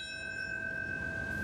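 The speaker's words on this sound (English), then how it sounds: "A bell tolled six times, marking the moments hijacked planes crashed into both World Trade Center towers" A single memorial bell rings at a 9/11 anniversary ceremony in New York, sustaining one steady, clear tone that lingers without fading across the short moment, with no one speaking.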